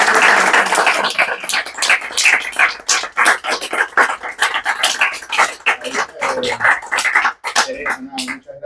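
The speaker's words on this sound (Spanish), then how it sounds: "Un aplauso para ustedes." An audience claps energetically after a talk at a discussion event, the dense, close applause rising and falling for over eight seconds before thinning out.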